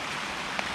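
Rain pattering steadily on a rural forest floor while mushrooms are picked, a dense close hiss of drops with one sharper tap, no voices.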